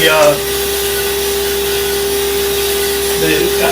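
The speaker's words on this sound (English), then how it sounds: "we're going to click the igniter back on" An electric commercial coffee roaster, a Sedona Elite, runs with a steady loud motor drone and a constant tonal hum, with brief speech at the start and end.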